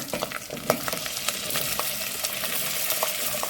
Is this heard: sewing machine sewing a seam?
no